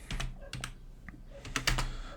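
Typing on a computer keyboard, a quick series of close, crisp key clicks in irregular bursts, with no talking.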